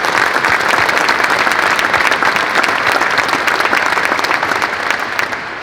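Sustained, loud applause from a large audience at an Air Force change-of-command ceremony for an air refueling wing, dense steady clapping filling the room with no talking over it.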